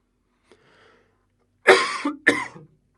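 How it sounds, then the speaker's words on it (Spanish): Two harsh, close coughs in quick succession from a person in a physics classroom lecture, preceded by a faint breath, with no speech. "tengo mucha tos."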